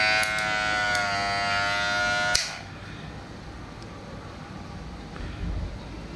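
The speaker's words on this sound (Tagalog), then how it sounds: "Malakas yung motor niya." A close Hiena HI-202 electric hair clipper motor buzzes steadily for about two seconds, then cuts off, leaving quiet room noise.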